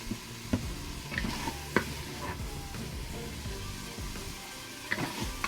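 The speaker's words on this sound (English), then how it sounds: "So we got the chicken cooking off here, searing away" Chicken sears in a Power Pressure Cooker XL with a steady close sizzle, while utensil scrapes and stirring clatter punctuate it every second or so.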